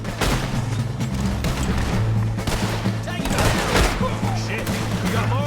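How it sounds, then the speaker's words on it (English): Gunfire in a shootout during a train robbery in Red Dead Redemption 2, a dense, loud clatter of overlapping shots and impacts throughout, with voices shouting over the fighting. "Open fire, man!"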